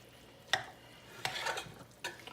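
A pot of turkey bean chili being stirred, quiet background with three distinct scraping, clinking strokes of a spoon against the pot, close by and unaccompanied by speech.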